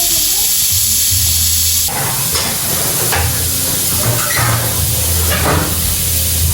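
Meat boils in a pot to tenderize, giving a loud continuous hiss and bubbling roar that fills the sound from start to finish, with a few faint kitchen knocks underneath.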